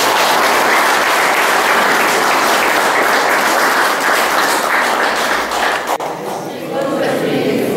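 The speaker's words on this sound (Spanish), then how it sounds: "Aplauso a Citlali por los 15 minutos." Loud, close applause fills a quinceañera celebration, a thick, continuous wash of clapping hands that thins out and dies away near the end.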